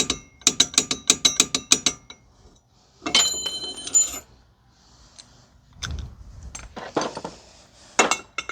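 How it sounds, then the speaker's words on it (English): Ratcheting clicks from a torque wrench tightening an inner tie rod on a 2006 Mazda 3 2.0, quick bursts of sharp metallic clicks separated by pauses, close and fairly quiet, with no talking. "So I torqued it to 60 foot-pounds"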